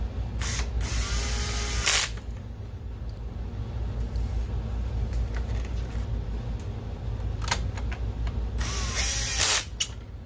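A power drill with its clutch turned down drives screws into an Optoma HD20 DLP projector during a power supply swap, giving two loud whirring bursts near the start and end of the clip with faint clicks and handling noise between them.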